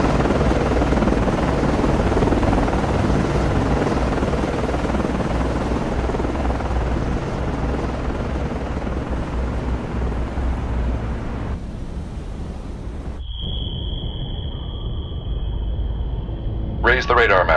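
A helicopter flies in the naval warfare game Cold Waters, set in the Sea of Japan around a DDG-79 destroyer. Its loud, steady rotor and engine roar fills most of the clip, then drops away to a quieter hum with a thin sustained tone.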